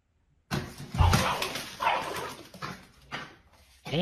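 A dog barks and whimpers in a few sharp bursts close by, with short pauses between the yelps.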